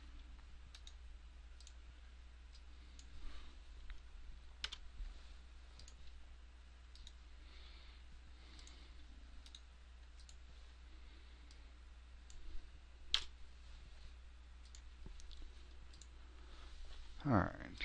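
Sparse, faint clicks of a computer mouse used to right-click buttons while editing in Flash, a few isolated taps spread far apart over a constant low electrical hum.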